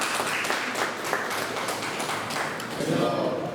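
Congregation at a cottage prayer meeting clapping to welcome a preacher, a short burst of scattered hand claps with taps and thumps and some voices mixed in.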